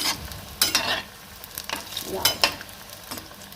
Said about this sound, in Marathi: ही अशा प्रकारे मस्त तेलात तळली जाते बटाटा भजी